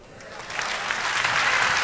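A church congregation breaks into applause during a sermon, the clapping rising quickly from quiet to a dense, steady patter within a couple of seconds.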